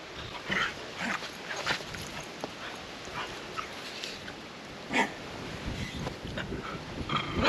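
A dog named Rasha at a campsite moves and snuffles close by, with a few soft whimpers and scuffles over a windy outdoor background. No one speaks.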